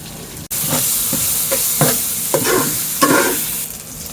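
Ginger garlic paste frying in a hot pan for chicken curry, with a steady sizzle and repeated scraping strokes of a spoon stirring it, close and loud after a sharp clatter at the start.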